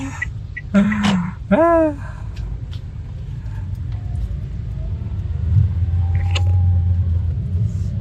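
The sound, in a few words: traffic jam with car engines rumbling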